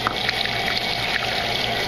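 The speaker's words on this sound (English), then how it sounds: "now we're going to fill it up with lukewarm water" Lukewarm water runs into a bottle for a DIY aquarium CO2 mix, a steady close splashing, trickling fill with no pauses and no talk.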